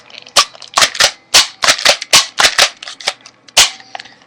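A modded Nerf Reflex blaster fires in a rapid string of about ten sharp, loud snapping shots with short gaps between them, close up and with no talking.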